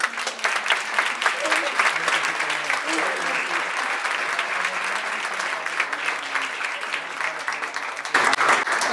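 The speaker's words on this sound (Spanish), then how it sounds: "Bueno, pues agradecemos a Gustavo, un aplauso por favor." An audience breaks into sustained applause for a guest presenter at an academic talk, a steady dense clatter of many hands that carries on for the whole stretch, swelling slightly near the end.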